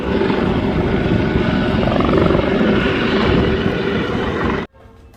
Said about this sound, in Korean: 헬기가 물을 퍼 날르고 있습니다